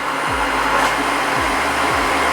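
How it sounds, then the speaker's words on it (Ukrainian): A Dreame H15 Pro Heat wet vacuum cleaner runs in hot water mode, a loud, steady close-up whir and hiss with a few brief low thuds underneath, and nobody speaks. "Режим гарячої води і вмикаємо пилосос."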